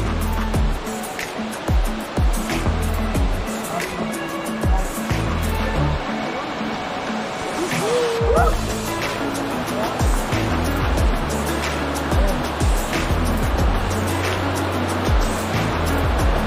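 River water rushes near Curug Koja waterfall, a loud, continuous churning wash with surging low rumbles, while a voice briefly speaks over it.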